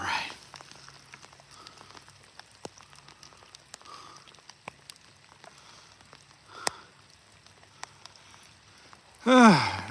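Light rain patters around a reservoir during calm, windless rainbow trout fishing, with scattered faint drops and soft ticks, occasional small knocks and a louder close rustle at the very end.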